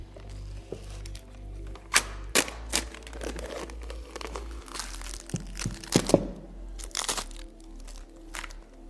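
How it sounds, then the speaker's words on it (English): Tape peels off an epoxy-glued wooden mitre joint in a workshop, giving a series of close, sharp crackles and tearing rips separated by quiet pauses. "let's get this tape peeled off"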